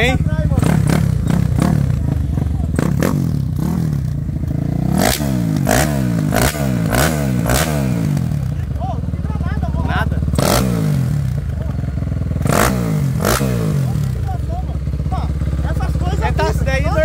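Modified Twister 79mm motorcycle revving repeatedly and riding nearby, loud throttle blips rising and falling in bursts over a steady engine drone, with people talking throughout.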